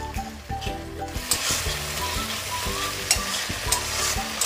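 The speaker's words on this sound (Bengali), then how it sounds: "এবার দিয়ে আমি আর একটু ভালো করে কষিয়ে নেব।" Ginger, garlic and onion paste fries in a pan for egg curry, a steady close sizzle broken by repeated scraping stirs of the spatula throughout.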